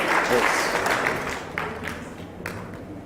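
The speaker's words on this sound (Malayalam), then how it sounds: "കൈയടിച്ച് ചേർത്താൽ നന്ദി." An audience at a religious retreat in Wayanad claps in steady, continuous applause that fills the room and eases slightly toward the end.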